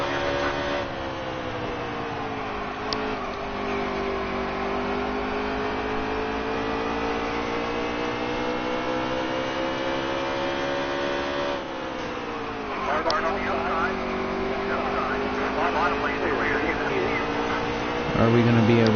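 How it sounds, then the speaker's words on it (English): Race cars in NASCAR Heat 3 keep up a steady engine drone with rising and falling pitch as one car goes by, under ongoing speech. "We're gonna let those cars go by, or that one car."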